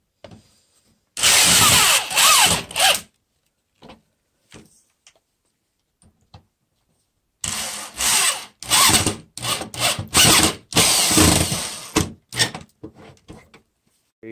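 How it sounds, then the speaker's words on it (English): A power drill drives screws into wooden easel frames held by Harbor Freight corner clamps, in two loud bursts of whirring and grinding separated by several seconds of near silence, the second burst longer and broken into short pulses. "thread the screws in."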